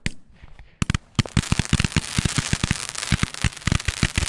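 Roman candle firework cake firing a rapid barrage outdoors: a quick sequence of sharp, loud pops and cracks in an irregular rhythm, densely layered over crackling hiss for several seconds, no voices.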